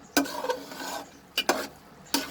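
Keema is stirred and mixed in a pan, a few distinct scraping strokes of a spoon against metal over a soft background sizzle, close and fairly quiet.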